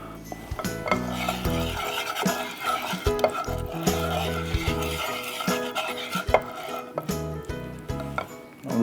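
Boiled eggs with turmeric and salt are sautéed in a pan, with a utensil scraping and knocking against the metal in busy, irregular strokes, close and fairly clear, with no one talking.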